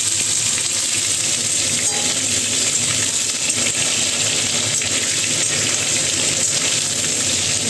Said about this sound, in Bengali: এখন আলুটা দিয়ে দিই।